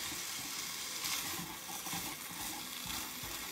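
Meat browning in a pot as the base for corn and shrimp soup, a steady close sizzle and crackle of frying with faint stirring scrapes, running unbroken throughout.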